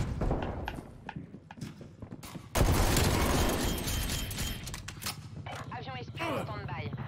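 Rapid AMP63 pistol fire rattles in Call of Duty Cold War hardcore play, with a dense burst of shots from about the midpoint alongside game effects, and someone speaks French in the clip.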